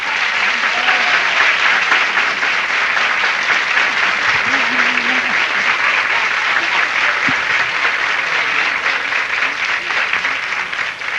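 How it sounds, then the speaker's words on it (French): A studio audience at a Quebec television variety show claps loudly and continuously, dense sustained applause close up that barely fades by the end. "On les applaudit bien fort, tout le monde."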